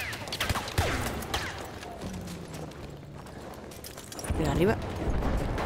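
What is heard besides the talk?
gunshots in the video game Battlefield 1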